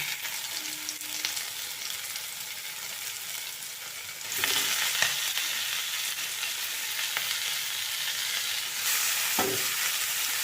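Pea greens hiss and sizzle as they go into a pan of fried chilies, quieter at first, then a louder steady frying with a few stirring scrapes, and no one talking.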